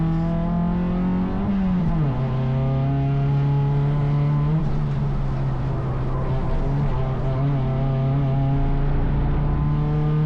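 Race car on a circuit during its first race after a full rebuild, the engine droning loud and close in a continuous in-car note that shifts pitch with gear changes and throttle through corners.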